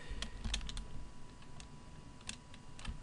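Typing on a computer keyboard at a Windows 7 PC, a steady run of close, crisp key clicks with a few louder taps, no talking.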